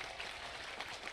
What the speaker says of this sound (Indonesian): tepuk tangan untuk Kak Igun